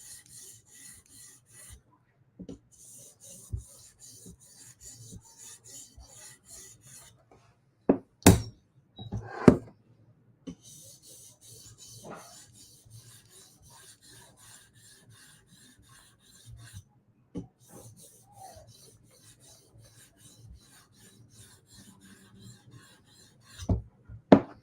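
A knife edge is drawn across a 400 grit sharpening stone in close, quiet rasping strokes, grouped into bursts with pauses and a few sharp clicks between them.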